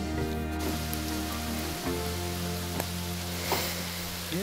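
Rain falls steadily outside a château under restoration, a continuous soft hiss with a faint steady hum beneath it and no voices.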